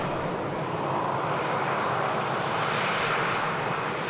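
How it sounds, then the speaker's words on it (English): Steady, loud roar of jet airliners departing from Manchester Airport, including a Singapore Airlines A350 and a Gulf Air jet, a continuous broadband engine rumble with no talking. "couple of nice departures. Singapore A350, Gulf Air, Dreamy on the streamy."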